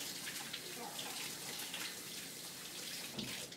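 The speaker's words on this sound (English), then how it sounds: "Let me just wash the chocolate off my hands." A running tap washes melted chocolate off hands at a sink, a faint, steady stream of water hissing evenly throughout.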